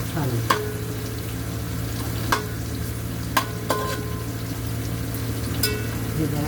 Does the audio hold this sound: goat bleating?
no